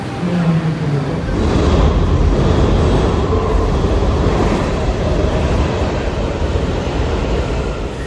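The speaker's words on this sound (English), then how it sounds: "my train's here." A Blue Line train to Franconia rumbles into a station with a steady low roar and rising rail noise, broadband and sustained, filling the whole stretch without pause.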